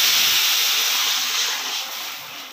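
A ground rasam mixture hits a hot pan with a loud, bright sizzling hiss, strong at first and slowly easing as it settles.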